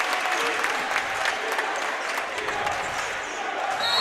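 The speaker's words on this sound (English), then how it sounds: "And as the home crowd erupts," Home crowd at a high school boys basketball state playoff game roars with sustained cheering and applause in a gym, loud and continuous for several seconds, with a few ball bounces and shouts mixed in.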